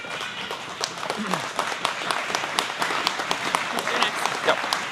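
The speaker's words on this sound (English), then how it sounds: "Then people clap." Audience applause following a speech, a full round of clapping with sharp individual claps standing out over the steady wash, continuing throughout at moderate loudness.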